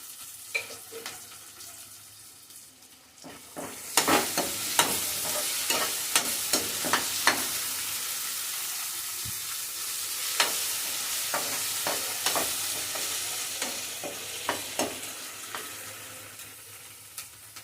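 Tomatoes frying in a pan for a bachelor-style pakodi curry, a steady broadband sizzle with sharp clicks and scrapes of stirring scattered throughout, the sizzle rising loud after a quieter opening.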